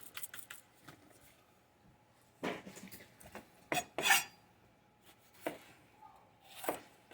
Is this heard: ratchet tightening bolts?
no